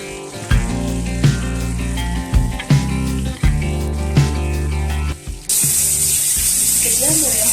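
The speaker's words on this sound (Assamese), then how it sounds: "গৰম কেৰাহীত মই এতিয়া মাংস ভাজি লওঁ।" Broiler chicken pieces hit a wok of hot oil in an Assamese village kitchen and burst into a loud, steady sizzle for the final couple of seconds, following a stretch of background music.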